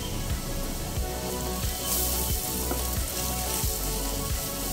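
Ground turmeric, chili, coriander and cumin fry in hot oil for egg devil, a loud, continuous close sizzle with rhythmic stirring scrapes about every half second and no talking.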